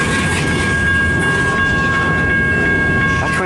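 A long CN freight train rolls steadily past at a grade crossing in Richmond, Michigan, as a loud, continuous rumble with rhythmic wheel clatter and faint bell-like tones from the crossing, close by.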